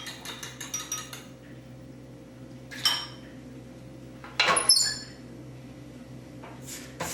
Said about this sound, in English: Now I'll take a fork and mix it all in